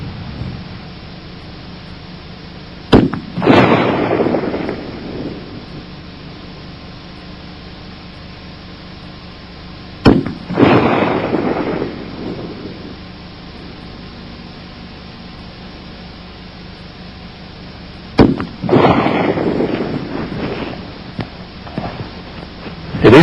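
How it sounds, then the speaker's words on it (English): A .44 AutoMag pistol fires three single shots several seconds apart. Each one is a sharp crack followed by a rumbling, echoing tail over a steady background hiss. "These are the 3 shots with a 44 AutoMag."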